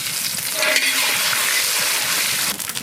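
Cumin seeds frying in hot mustard oil and ghee, a loud dense sizzle and crackle that holds steady throughout, close up with no talk.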